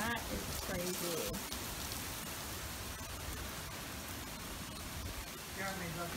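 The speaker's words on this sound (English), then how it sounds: "That rain is going every which way." Rain at the start of a tropical storm blows in a dense, steady hiss of drops, loud and close, with voices talking faintly under it at the beginning and end.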